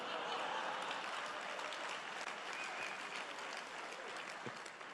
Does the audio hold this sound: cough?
no